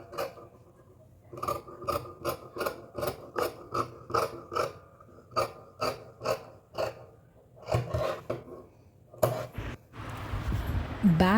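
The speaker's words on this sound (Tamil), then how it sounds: "இப்போ ஸ்லீவை நம்ம கட் பண்ணிட வேண்டியது தான்." Scissors cut a blouse sleeve from fabric, giving a rhythmic series of close, crisp snips in bursts, followed by rustling fabric handling toward the end, with no talking.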